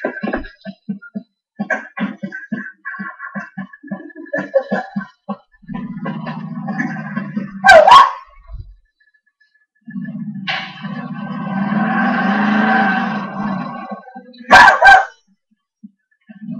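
Dog barking in the video game GTA IV, sharp bursts of barks spaced apart over a steady engine-like drone and other game sounds.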